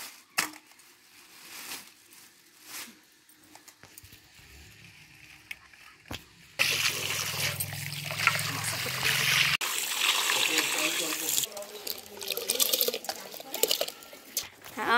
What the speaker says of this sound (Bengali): এবার যে সকালে মাছ আনা হয়েছে সেটা ধোয়া হচ্ছে